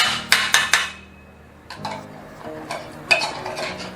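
Thick canned caramel treat being stirred in a bowl, with a few sharp utensil clinks and scrapes at the start and then a slower, uneven run of sticky scraping taps, fairly close.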